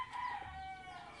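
Small chicks giving faint, high, thin peeping calls, a few quick chirps close together in a short burst.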